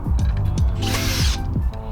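A power drill drives masonry screws through a porch post into concrete, a loud steady whirring with repeated low pulses and a brief higher grinding burst midway, close and with no talk.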